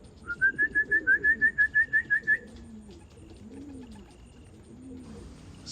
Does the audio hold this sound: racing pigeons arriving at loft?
yes